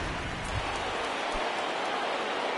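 Steady rain pattering down on the field in a PS4 baseball game, an even wash of soft hissing noise with a few faint low thumps, continuous throughout the short span.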